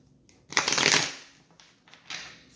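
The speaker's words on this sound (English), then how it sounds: "I'm going to shuffle these one more time." A deck of tarot cards is shuffled close by: one loud riffling burst, then a quieter second flutter after a short pause.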